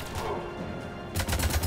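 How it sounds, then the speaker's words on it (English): Assault rifle fire in Mass Effect 3 cuts in after a second of rumbling battle ambience, a loud rapid string of close shots. "Switch over to the assault rifle."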